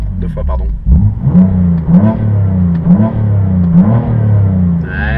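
BMW M3 engine in sport mode with manual shifting, revving hard over and over in rising and falling sweeps, loud and close, while someone talks over it.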